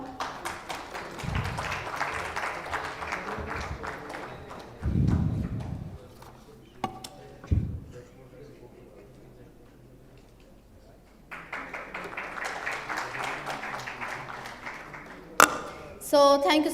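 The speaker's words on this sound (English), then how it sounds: "A big round of applause for Ms. Sadia." Scattered claps from a forum audience at a fintech conference, with a fuller, steadier burst of applause swelling late, while a voice talks over much of it.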